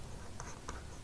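Chalk or marker writing on a board during a physics lecture, a couple of faint, brief scratchy strokes over a steady background hiss.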